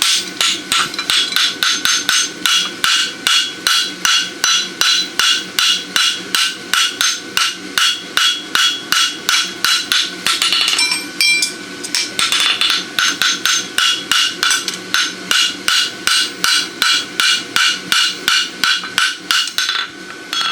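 A blacksmith forges a small 1/2 by 3/4 inch roadster horseshoe on the horn of an anvil, striking it with a hammer in a fast, steady run of loud, close ringing blows that pause briefly partway through.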